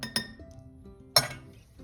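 A metal spoon clinks against a glass jar while a tablespoon of something is added for grape juice preserving: two quick bright taps close together, a softer tick, then one sharper clink about a second later, close and clear in a quiet room.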